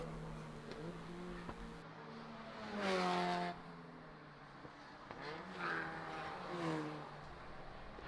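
Cars driving at speed around the track at Sonoma Raceway during a track day, engines rising in pitch as they accelerate and pass, with a couple of louder distinct passes over a steady background.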